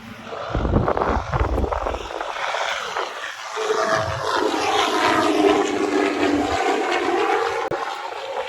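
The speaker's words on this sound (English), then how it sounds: "there's a helicopter going by" Helicopter passing overhead outdoors, a rumbling whoosh that swells and lingers as it goes by, with a brief voice at the start.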